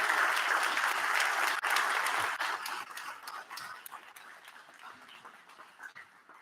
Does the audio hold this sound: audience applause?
yes